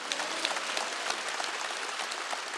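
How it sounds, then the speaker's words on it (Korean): A church congregation at a Korean Wednesday worship service claps hands together, a dense, continuous wash of many palms with no pause and no voices over it. "믿는 자만 박수 치라고요."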